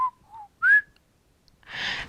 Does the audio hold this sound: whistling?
yes